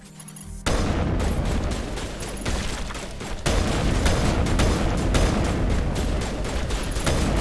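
Gunfire from the video game Mass Effect Legendary Edition: after a brief quiet opening, loud, dense bursts of shots and booms run continuously to the end, with no pauses between volleys.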